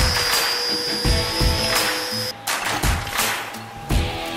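A grinder works on a forged steel slingshot with a steady whine, broken by repeated rough bursts as the workpiece presses in and lifts away.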